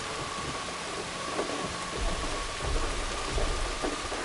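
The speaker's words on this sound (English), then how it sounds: "Rain's as loud as beating drums." Heavy rain pours steadily in the video game Horizon Forbidden West, a dense hiss with low thunder rumbling beneath it that swells in the second half.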